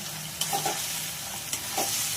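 Close, steady sizzling as spices are stir-fried in a pan, with a few scraping clicks from the spatula along the way.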